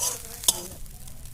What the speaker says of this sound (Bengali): ভালো করে ভেজে নিয়েছি, এবার তুলে নিচ্ছি।